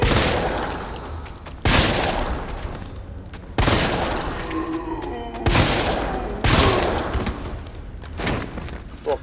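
Gunfire in the video game Resident Evil 3 Remake comes in about five sharp, loud shots spaced every couple of seconds, each followed by a decaying rumble.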